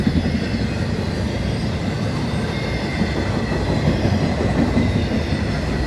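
Freight train carrying UPS containers in wells and on spines rumbling past at West Springfield in the rain, a steady loud roar of rolling wagons with faint wheel squeal, continuous and close.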